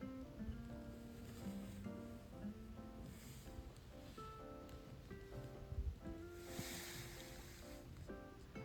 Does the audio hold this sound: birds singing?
no